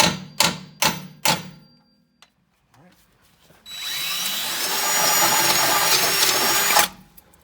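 Four sharp center-punch hammer taps ring out on metal, then after a short pause a power drill whines steadily for several seconds drilling a hole in metal before cutting off.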